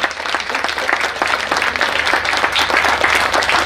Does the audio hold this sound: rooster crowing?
no